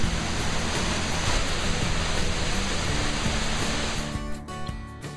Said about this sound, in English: a local natural attraction, a waterfall